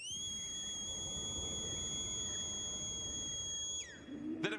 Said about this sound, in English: he blows a super whistle, and you can really hear the crisp sound design of the whistle now